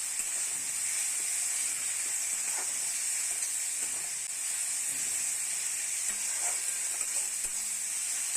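Turmeric, chilli powder and salt sizzle in hot oil as spices are stirred in a pan for a Bhola fish curry, with a steady frying hiss and occasional soft scraping strokes throughout.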